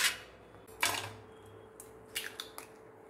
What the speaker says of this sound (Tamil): அடுத்தது முட்டை உடச்சி ஊற்றிக்கலாம்